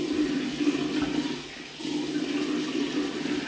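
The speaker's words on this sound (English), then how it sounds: "I apologise for all the running water here." A bathroom tap runs continuously in a steady hiss of water with a faint tonal hum underneath, dipping slightly in the middle before resuming at the same level.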